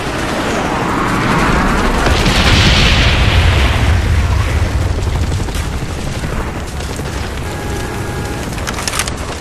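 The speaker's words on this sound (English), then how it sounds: "bomb strike coming in" Bomb strike in an online multiplayer shooter, a loud rumbling barrage of explosions that builds, peaks and slowly fades into crackling debris, with a faint beeping tone near the end.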